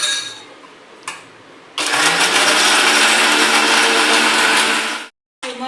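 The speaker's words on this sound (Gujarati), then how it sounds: "મિક્સર ચાલુ કરી લઈએ।" A kitchen mixer grinder blending chutney with curd, salt and a little water starts with a short burst. It then runs loud and steady for about three seconds and stops abruptly, followed by a brief restart.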